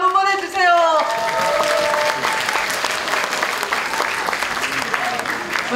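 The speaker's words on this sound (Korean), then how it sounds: "박수 한번 보내주세요" Steady applause from a seated crowd at a Democratic Party provincial delegates' convention in South Chungcheong, loud and sustained for several seconds, following a voice over a PA system at the start.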